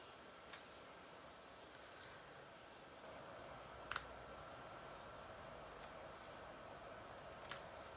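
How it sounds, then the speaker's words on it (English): A few sharp, isolated snips of scissors, spaced apart over a quiet room hum. "And I need regular scissors."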